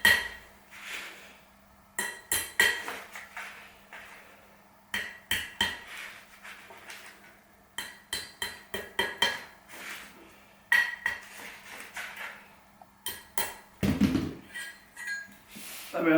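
Metallic clinks, taps and scrapes come in irregular bursts as a bottom bearing race is worked off a bicycle headset while a new Stronglight A9 is being fitted, close up and with no talk.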